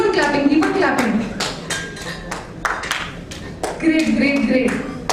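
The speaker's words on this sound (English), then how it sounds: "Loving the clap wave." Irregular hand claps from a product launch event audience in Mumbai pop up one after another at varying spacing as a clap wave, with people talking underneath throughout.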